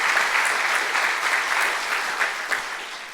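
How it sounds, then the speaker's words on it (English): Applause from an audience fills a ribbon-cutting ceremony for a new engineering building, dense and steady clapping that fades slightly toward the end, with no voices over it. "Let's give her applause in absentia."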